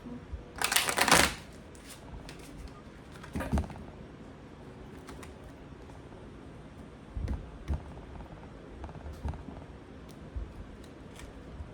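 Cards are riffle-shuffled in a quick burst, followed by a second shorter shuffle and several soft taps and card handling sounds.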